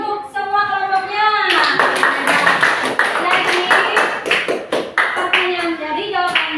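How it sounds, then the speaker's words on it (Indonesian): Classroom applause for student groups in an Indonesian school lesson, a burst of close, crisp hand claps from a small group starting after a spoken line, with a voice talking over the clapping. "Tepuk tangan untuk semua kelompoknya."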